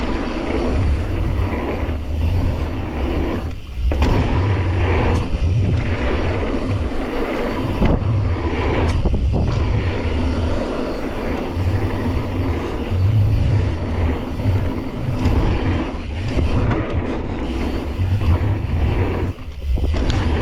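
Steady low engine drone of a motorcycle being ridden, loud and continuous with rushing wind across the whole stretch, no talk.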